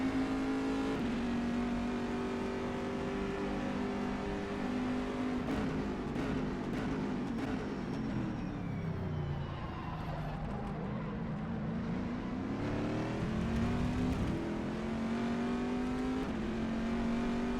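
A GTE race car engine in the racing game rFactor 2 at Magny Cours, droning loudly throughout as it revs, shifts through gears and rises and falls in pitch over a lap.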